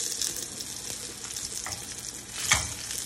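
A thick, one-inch pork chop sears in a hot pan, giving a loud, continuous close-up sizzle with a brief burst of sharper spitting near the end and no talk.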